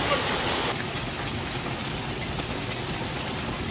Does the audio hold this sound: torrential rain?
yes